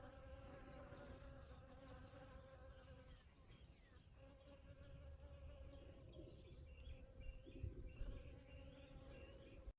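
Faint, steady buzzing of bees droning close by in a garden, with soft hum and a few rustles, quiet and continuous.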